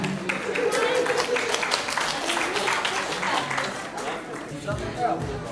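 Applause for girls in a wedding contest, steady crowd clapping throughout mixed with chatter and a voice speaking over it, loud and close.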